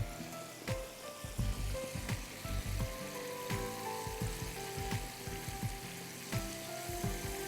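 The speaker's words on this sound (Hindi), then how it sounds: "इनको फ्राई होने दीजिए, ऊपर नीचे करिए" Chicken wings fry in a pan, a low steady sizzle broken by recurring soft thumps and scraping as they are turned, fairly quiet, with no talking.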